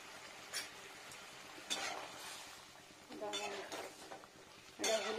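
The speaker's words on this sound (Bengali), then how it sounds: "এটা বাটি ধুয়ে মশলাটা দিয়ে নিই।" A bowl is rinsed, then spice is stirred with a little water while cooking a vegetarian dish. The sound comes as short bursts of scraping, swishing and light clinks of a utensil against metal, close by, with quiet gaps between them.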